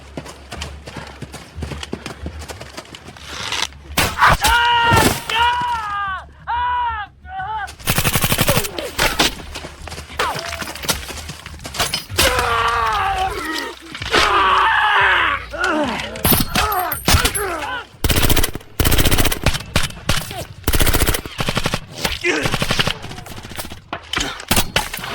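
Sharp gunshots and rattling bursts of machine gun fire ring out in clusters, loud and close, mixed with thuds and brief shouts.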